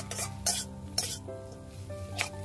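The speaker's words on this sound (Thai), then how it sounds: "พอผัดจนผักคะน้าของเราสุกได้ที่แล้วนะคะ" Rice noodles and Chinese kale stir-fried in a pan for pad see ew, a steady close sizzle with scraping stirring strokes and utensil clinks against the pan, no talk.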